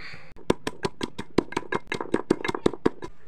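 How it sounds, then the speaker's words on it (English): Garlic and ginger are pounded by hand, most likely with a mortar and pestle, in a quick, regular series of sharp thuds, about five per second, close and loud with no talk. "Garlic and ginger. I'm gonna grind this."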